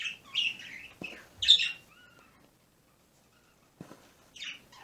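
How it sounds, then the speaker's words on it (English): A few sharp bird chirps and tweets come in short bursts, with quiet gaps between them. "when the birds are loud, that's kind of what happens"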